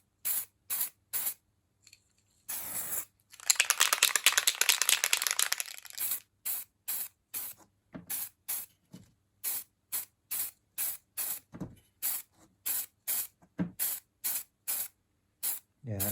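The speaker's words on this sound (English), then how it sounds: "we're going to try this surface primer, and we're going to do a zenithal spray right from above." A spray can mists surface primer from above onto a grimdark terrain monument, one sustained hissing burst of several seconds, framed by rapid regular clicks and rattles before and after.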